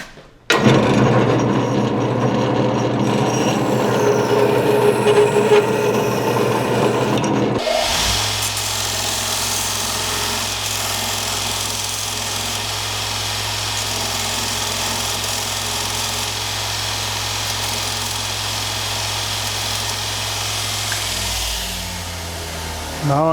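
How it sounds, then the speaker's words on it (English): A bandsaw trims excess wood from a forged hammer's handle at the eye, then a grinder evens it; a loud, continuous machine whine runs throughout and shifts to a deeper, steadier drone partway through. "So I'll trim the excess off with my bandsaw and then grind it nice and evenly."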